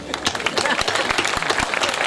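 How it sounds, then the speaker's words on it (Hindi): An audience at a Hindi poetry gathering in Khariar Road, Odisha, claps loudly and unevenly, with sharp individual claps standing out from the crowd's patter. A voice can be heard speaking underneath. "तालियां तो उसके लिए मिलना चाहिए"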